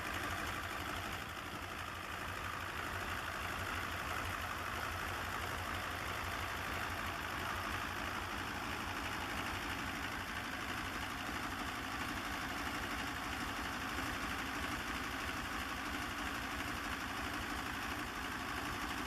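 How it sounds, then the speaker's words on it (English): A radial diesel engine with multiple cylinders around a central crankshaft, on a test run at an abandoned diesel power station, chugging in a steady rapid rhythm with constant mechanical clatter and hum, unbroken throughout. "The engine is demonstrated during a test run, highlighting several practical modifications made for improved operation."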